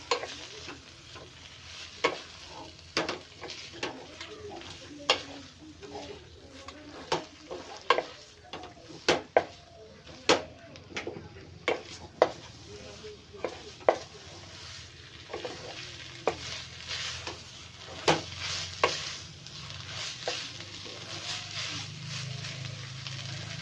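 Noodles and other ingredients being tossed and stirred in a frying pan, a steady sizzle broken by repeated sharp scrapes and taps of the spatula against the pan, close by.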